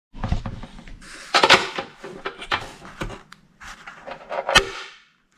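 Nismo carbon fiber airbox for a Skyline GTR being fitted back together, with a filter set inside: a run of sharp plastic clicks, snaps and knocks close by, in irregular bursts.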